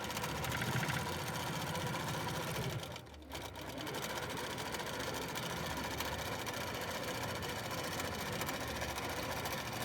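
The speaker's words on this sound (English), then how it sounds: "So as you can see, it's just sewing really perfectly right inside." A computerized quilting sewing machine runs steadily, stitching inside the seams with a continuous loud mechanical whir that dips briefly once before resuming.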